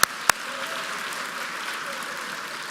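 Sustained applause from a crowd at a charity brunch, steady and dense from start to finish, with a couple of sharp knocks at the very beginning.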